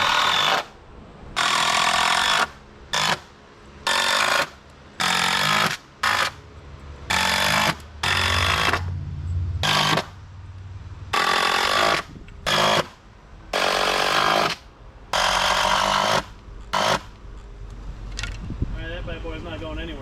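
A power drill drives screws through a deck board into the board fastened to a house wall, in repeated loud bursts of whirring and grinding separated by short pauses, with speech heard in places.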